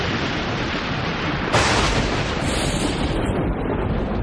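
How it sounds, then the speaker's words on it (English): Thunder from a lightning strike rolls as a broad, steady rumble, with a sharper burst about a third of the way in before it settles back into a sustained roar. "It makes the very air explode, which we hear as thunder."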